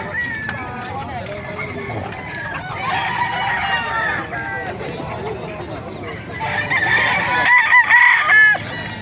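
Roosters crow repeatedly and chickens cluck at a poultry market in Bocaue, Philippines, with loud crows building toward the end while people talk nearby.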